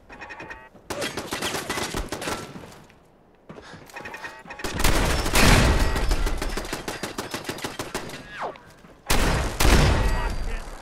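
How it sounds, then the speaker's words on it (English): Rapid close shotgun fire in the Fallout 4 video game, loud repeated blasts in dense runs broken by short pauses, heavy booming hits among the volleys. "Freaking shotgun is kicking butts"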